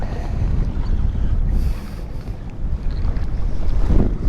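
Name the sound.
strong wind blowing while fishing from a boat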